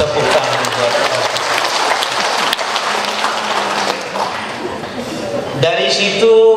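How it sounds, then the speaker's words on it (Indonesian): A crowd applauds an elderly man introduced as a speaker, with loud, dense clapping that sounds almost like heavy rain. Near the end the clapping gives way to a voice talking. "Tepuk tangan buat Bapak."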